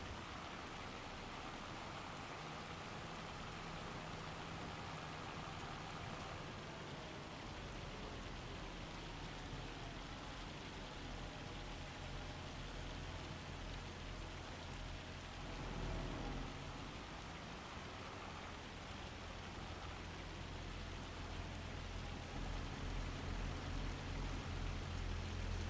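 Steady rain falls across a farm in Farming Simulator 25, a dense even hiss with a low rumble underneath, loud and constant for the whole stretch with no voices over it.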